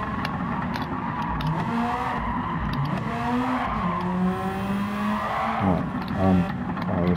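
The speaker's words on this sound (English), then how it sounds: "I was trying to drift it" A Nissan Skyline Super Silhouette '84 drifting in Gran Turismo 7, with loud wavering tire squeals sweeping up and down over a revving race engine, rising to a sharper burst near the end.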